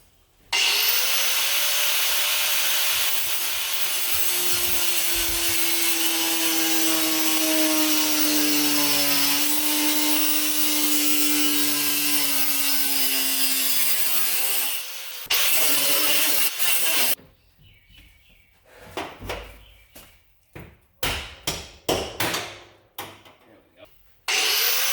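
A saw cuts steadily across a bus roof during a teardown, a loud sustained grinding rasp for about fifteen seconds before stopping, followed by scattered clanks and handling noises.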